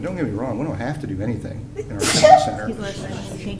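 A single sharp sneeze bursts out midway through a council budget workshop in a meeting room, cutting into a man's ongoing speech that continues around it.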